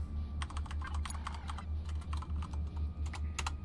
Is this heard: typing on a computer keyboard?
yes